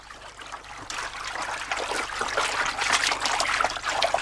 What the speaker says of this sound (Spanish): Ahora estoy removiendo para que todas las escamas se puedan diluir en el agua